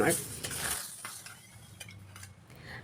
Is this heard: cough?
no